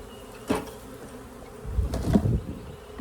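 A honeybee swarm buzzes as it is shaken and poured into a hive, with a sharp knock near the start and a louder, thicker surge of humming and bumps toward the middle.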